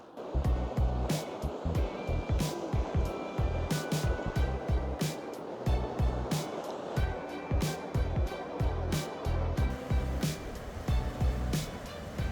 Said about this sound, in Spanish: Se escucha el río, las aves, solo naturaleza.